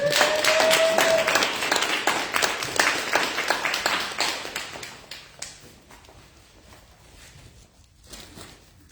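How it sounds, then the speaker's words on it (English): Audience applause welcoming a speaker to a talk, a dense burst of clapping from many hands that is loud at first, then thins out and fades over several seconds. "Let's give Father Innaiah a big warm applause."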